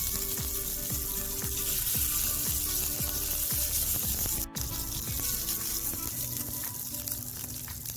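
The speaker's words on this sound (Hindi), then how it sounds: "2 टेबलस्पून मक्खन लेकर उसको पैन में डालकर मेल्ट कर लीजिए।" Steady hiss and crackle of butter melting and sizzling in a hot pan, loud and close, continuing without pause.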